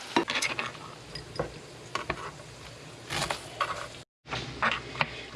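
Ground meat for lasagna sizzles and crackles in a hot pan as its juices evaporate, with intermittent scraping and stirring clatter and a brief silent break near the end.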